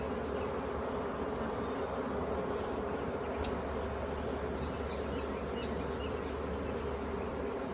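Honeybee swarm in a hive, a dense, steady buzz of many bees heard up close and continuous, without talking.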